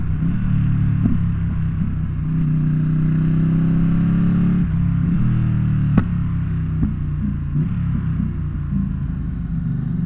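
A Ducati Streetfighter V2 with full exhaust and tune idles and rumbles steadily while still cold, with a few sharp crackling downshift pops from the exhaust and one loud snap partway through.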